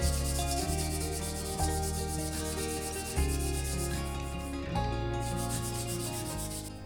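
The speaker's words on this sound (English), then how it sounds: "we're going to clean up the knob as well as the rosewood fence here." Rosewood fence and knob of a Stanley No. 45 plane being cleaned up by hand, a steady rubbing, sanding scrape in repeated strokes, close and fairly loud, with no talking.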